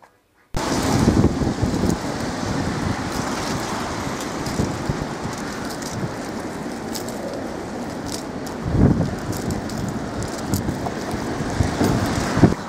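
Strong wind gusting outdoors on a cold, rainy day, buffeting the microphone in a continuous roar with surges, alongside faint distant traffic.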